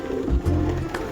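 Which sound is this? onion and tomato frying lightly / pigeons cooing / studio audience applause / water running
pigeons cooing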